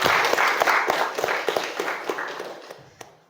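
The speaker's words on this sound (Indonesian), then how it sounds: "Nah, tepuk tangan untuk kita semua." Students in a classroom applaud together in a dense, rapid clatter of claps that starts full and gradually thins and fades toward the end.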